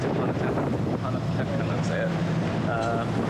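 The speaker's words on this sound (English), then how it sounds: "Really, really windy and choppy on this point" Strong wind buffets the microphone over a rushing background of choppy water and a sailboat's motion off a point, while a person talks faintly underneath.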